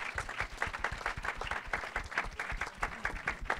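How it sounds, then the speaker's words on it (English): An audience at a film Q&A applauds actor Kyle MacLachlan, a lively, sustained round of many hands clapping with a rhythmic, textured crackle that holds steady throughout. "Let's have a round of applause for Kyle."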